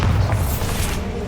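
A Bombarda blasting spell explodes in the Hogwarts Legacy video game, a deep, heavy boom that rumbles low and steady through the whole short moment with no talk over it.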